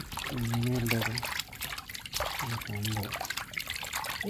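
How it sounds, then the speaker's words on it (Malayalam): Fish is rinsed under running water, a close, continuous trickle and splash, while a person talks over it in two stretches. "വെള്ളത്തിൽ കഴുകണം നല്ലപോലെ കഴുകിയിടണം"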